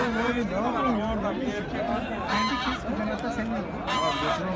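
Chickens, roosters, ducks and geese cluck and call at a busy poultry market in Kırıkkale, their overlapping calls mixing with crowd chatter and nearby talking.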